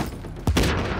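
A single sharp, loud sniper rifle shot in the shooter game The Division, cracking close by over a busy in-game background and trailing off in a short echo.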